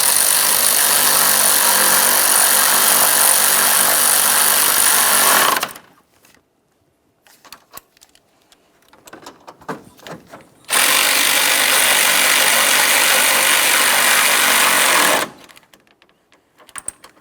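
A power tool snugs up the 10mm radiator mounting bolts on a 2012-2015 Honda Civic 1.8L I4. It runs in two long, loud, close whirring bursts separated by a few seconds of near quiet, with no talking.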